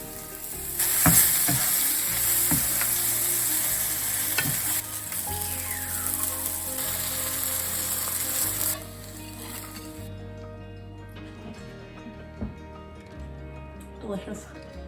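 King Bolete mushrooms frying in a pan give a bright, continuous sizzle that fades partway through, heard under a person talking.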